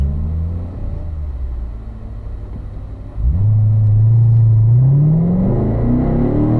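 A car accelerates hard in 4th gear toward 65 mph on a track, its engine rumbling low before a sharp rise in revs that climbs steadily and stays loud and close to the end.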